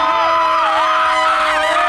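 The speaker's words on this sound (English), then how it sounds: "People love to scream in this town." Spectators at the Las Vegas marathon scream, whoop and cheer loudly and continuously, a dense crowd roar close by with high shrill voices rising over it.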